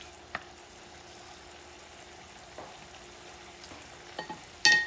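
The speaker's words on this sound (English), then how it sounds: "I'm going to move it around so the saffron mix, add that extra little beautiful color." Saffron mixture for shrimp fideuà being stirred in a paella pan, with a faint steady sizzle under occasional soft scrapes and clinks of the utensil, a sharper clatter near the end.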